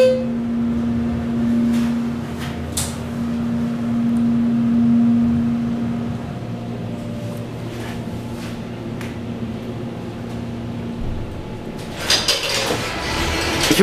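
Schindler HT 330A hydraulic elevator riding at The Court, King of Prussia Mall, with a steady low motor hum throughout, a few faint clicks and knocks along the way, and a brief clatter as the ride ends.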